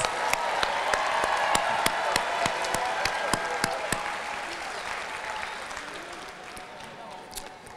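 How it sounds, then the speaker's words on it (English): A crowd claps loudly and steadily at a Head Start class of 2022 graduation ceremony, with sharp individual claps standing out and the applause slowly thinning toward the end, with some voices mixed in. "Y'all give the class of 2022 a round of applause."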